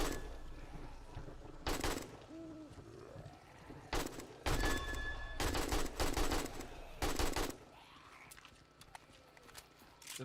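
Automatic rifle fire in the 7 Days to Die video game: several loud, sustained bursts of rapid shots separated by short gaps, spread across the whole stretch.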